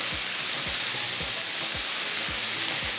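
Capsicum, tomato and carrot are stirred in a hot pan with a steady, loud sizzle. A spoon scrapes and clacks against the pan in a regular rhythm about every half second. No talking.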